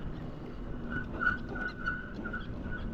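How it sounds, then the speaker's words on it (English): Brakes on an electric hub-motor bike with a QS273 14kw hub motor give a series of thin, repeated squeals over a steady low rumble, moderately close with no talking. "These brakes are squeaky too."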